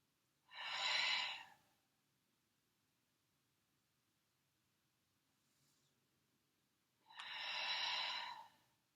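Two loud, close breaths during a Pilates exercise, each lasting about a second and separated by several seconds of near silence, with a faint breath in between.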